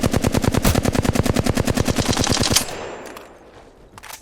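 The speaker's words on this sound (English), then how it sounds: "My bullets are going where I'm aiming" Fast, steady automatic gunfire in a video game, a long rhythmic burst of evenly spaced loud shots that stops abruptly, leaving a brief ringing tail and a few faint clicks.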